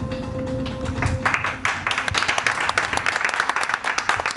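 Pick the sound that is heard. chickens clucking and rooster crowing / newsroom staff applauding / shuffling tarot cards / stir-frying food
newsroom staff applauding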